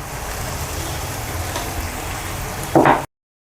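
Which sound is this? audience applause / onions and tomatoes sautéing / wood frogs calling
onions and tomatoes sautéing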